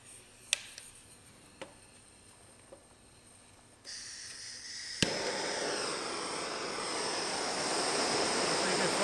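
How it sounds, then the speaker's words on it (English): A torch flame playing on Corian solid surface countertop material in a burn test: a few sharp clicks, then a rising hiss that bursts into a loud, steady broadband roar that holds close to the end, with no speech. "Flame going there."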